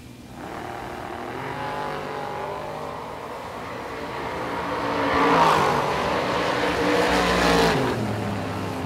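Drag racing cars, including a Camaro, roar down the strip together, a loud sustained engine drone that swells as they accelerate, then holds steady.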